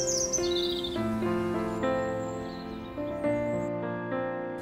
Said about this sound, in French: les premiers rouges-gorges sont arrivés